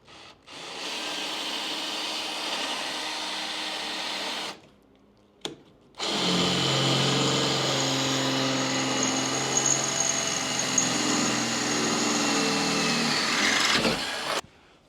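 A power tool cuts grooves into channels, producing a loud, steady, close-up whine for about four seconds, then a brief pause with a small knock, then a second, longer run of buzzing cutting before it stops.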